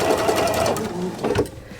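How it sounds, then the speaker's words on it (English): A sewing machine stitches quilting fabric onto an ender scrap in a short, close burst of rapid mechanical needle clatter that stops abruptly near the end. "I'll go ahead and stitch on an ender."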